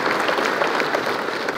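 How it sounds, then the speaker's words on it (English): An audience at an international conference inaugurated by Chief Minister Siddaramaiah in Karnataka claps in a brief, dense burst of steady applause. "So let's give a round of applause, ladies and gentlemen."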